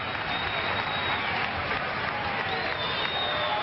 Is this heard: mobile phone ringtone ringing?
no